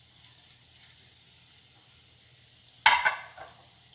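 Garlic and onion hitting hot canola oil in a pan for beef lasagna, a sudden bright sizzle that flares up and then settles into a softer frying hiss over a quiet kitchen background.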